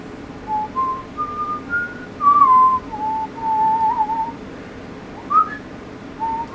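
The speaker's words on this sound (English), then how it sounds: "Actually, we should not whistle. That sounds horrible on microphones." A person whistling a slow, wavering tune of sustained notes and small slides, fairly loud and close, over a low background hum.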